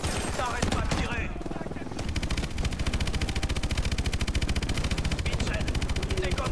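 Sustained rapid machine gun fire from the Call of Duty: Advanced Warfare video game, a dense, even rattle of shots running for several seconds after a burst of mixed explosions and effects.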